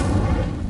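A short, loud, booming whoosh of the Incendio fire spell in Hogwarts Legacy, one dense low burst that fills the moment without any talk.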